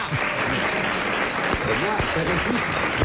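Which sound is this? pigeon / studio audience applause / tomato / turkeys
studio audience applause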